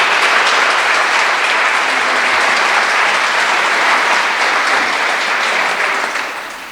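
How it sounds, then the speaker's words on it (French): A crowd at a closing ceremony for local festivities applauds in a steady, loud, dense wash of clapping that fades slightly at the end. "ça mérite une bonne main d'applaudissement encore pour tous les gens qui ont participé."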